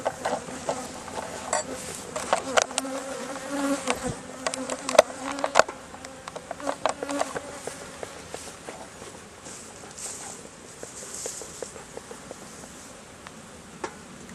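Honeybees buzzing around an open top bar hive outdoors, a steady hum of many insects with individual bees flitting close by, plus scattered light rustling and handling sounds while the hive is worked.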